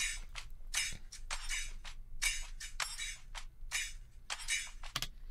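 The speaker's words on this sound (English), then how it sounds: "I think I searched metal shaker or something like that to find something that breathes a lot" A metal shaker percussion sample shakes out bright, breathy bursts in an uneven rhythmic pattern, crisp and close, alone without any voices.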